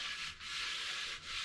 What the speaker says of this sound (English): we're gonna do some extensive sanding on it